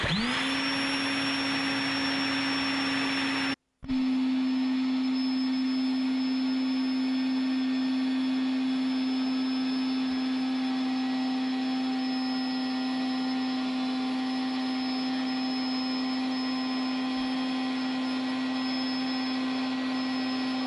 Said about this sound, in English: I'm sure that you must be wondering how loud this internal air pump is